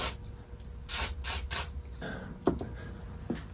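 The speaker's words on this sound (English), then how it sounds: "I'm just going to spray them right here." Several short bursts of aerosol contact cleaner hiss in quick succession onto a Mac Plus circuit board, followed by a few faint clicks and handling sounds nearby.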